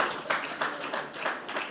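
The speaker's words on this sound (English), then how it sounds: "Let's give her a round of applause." Audience applause at a young professionals' petroleum engineering workshop in Africa, greeting a judge: a steady wash of many hands clapping at moderate distance, continuous throughout with slight swells.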